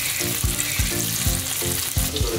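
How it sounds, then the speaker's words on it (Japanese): Food frying in a pan over medium heat for a home-cooked dinner gives a steady, close sizzle, punctuated by regular low thumps and clatter as it is moved around. "中火ぐらいで焼いていきます。"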